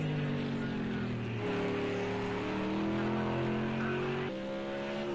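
A Sauber C9 race car in a racing video game at Watkins Glen GP sounds a loud, continuous engine drone. It holds steady tones and shifts up sharply twice, with a faint commentator's voice under the engine.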